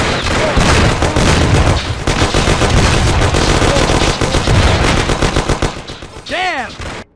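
Dense, relentless gunfire with rapid machine-gun bursts and overlapping shots fills a Mafia: The City of Lost Heaven cutscene shootout, loud and continuous before a brief lull and a final flurry.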